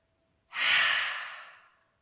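A single long breath, drawn out and then fading, taken during a yin yoga session for the neck, shoulders and spine. It is close and soft, rising quickly and tapering away over about a second and a half, with no talking.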